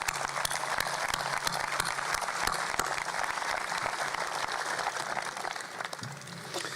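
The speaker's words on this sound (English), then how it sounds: "Let's give this group a well-deserved round of applause." Graduation crowd at Piqua High School applauds the honored seniors in a dense, continuous round of clapping, broad and steady across the whole stretch, with sharper individual claps standing out near the front.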